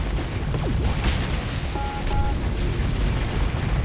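Spaceship cannons firing in the Starsector space combat game, a dense rolling barrage of booming impacts and whooping shots over steady low battle rumble, with no talk.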